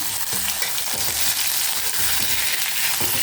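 Boiled taro root (seppankizhangu) frying in a pan, a continuous close sizzle with soft stirring and crushing sounds as the pieces are turned and mashed, no voices.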